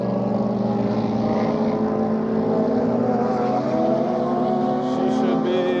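A red Porsche 4RS race car passes on the Sebring circuit, its engine a sustained droning whine heard from trackside at moderate distance, holding fairly level throughout with no one talking over it.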